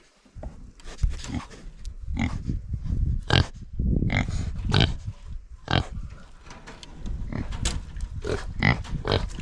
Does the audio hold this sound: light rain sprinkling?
no